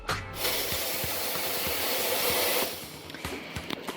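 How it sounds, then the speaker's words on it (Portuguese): Steam wand with four outlets on a Promac espresso machine steaming milk in a pitcher: a loud, close, steady hiss for a couple of seconds that then drops away, leaving a few faint clicks and spurts. "Então agora nós vamos vaporizar o leite na haste de vapor da máquina de café."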